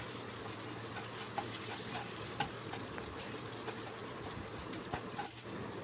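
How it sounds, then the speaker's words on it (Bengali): Cut potatoes fry in a pan with mustard and dried chili during the cooking of a Bengali rohu fish curry with mango, giving a soft, steady sizzle with scattered faint pops and stirring clicks. "তারপর কেটে রাখা আলুগুলো দিয়ে কিছুক্ষণ ভেজে নিব।"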